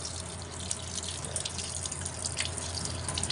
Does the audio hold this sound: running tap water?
yes